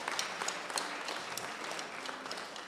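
Applause from a church congregation at a convention, a steady, broad wash of clapping that fills the room for a few seconds, with no voices standing out.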